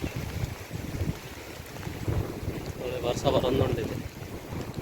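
A boat with a Honda outboard motor runs out on the water, its engine drone mixed with heavy wind buffeting the microphone and a wash of sea noise. Someone talks over it.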